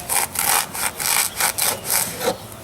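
A knife slices straight down through a foam boffer blade in a series of rhythmic, rasping strokes, close and fairly loud, with no voices.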